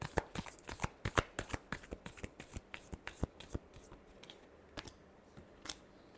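Tarot cards are shuffled by hand in a quiet room, a rapid series of sharp, crisp riffling snaps and flicks that comes in uneven bursts and gradually thins toward the end.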